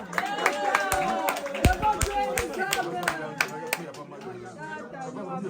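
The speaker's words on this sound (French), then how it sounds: "On applaudit pour Tata." Wedding guests clap at a customary wedding ceremony in Tremblay-en-France, sharp claps scattered over lively chatter and voices, some near and loud, others softer in the background.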